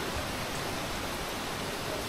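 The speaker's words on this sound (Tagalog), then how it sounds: "Lakas pa rin ng ulan." Heavy rain pouring down steadily at a hillside resort in Infanta, Quezon, a dense unbroken hiss with no voices.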